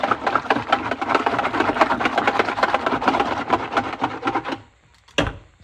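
A whisk stirs OxiClean solution in a container for cleaning dirt bike air filters, a steady close scraping and sloshing rhythm for about four and a half seconds, then a pause and one short final stir.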